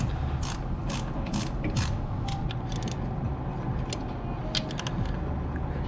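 Ratchet clicking steadily in short bursts while torquing the throttle body bolts on a Mazda RX-7 rotary engine, close and clear, with repeated pawl ticks and pauses between strokes over a low garage hum; no talking.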